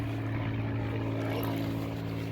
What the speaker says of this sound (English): The plane's following us too.